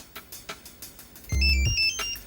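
A mobile phone ringtone cuts in as a brief, loud melodic chime with a heavy low thump beneath it, after some soft tapping and movement sounds in a room.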